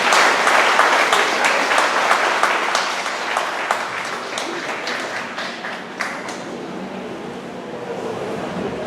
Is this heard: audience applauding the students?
yes